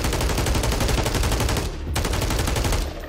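Rapid automatic SMG fire in Call of Duty Warzone rattles in dense, continuous bursts, loud and close, with only a brief dip in the middle.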